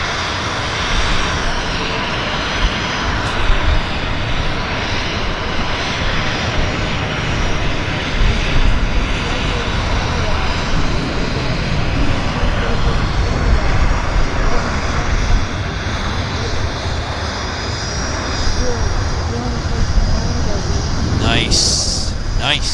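WestJet airliner moving at Vancouver Airport on a windy day, a loud continuous jet engine roar with broadband rushing noise that holds steady for over twenty seconds, with a brief high whine near the end.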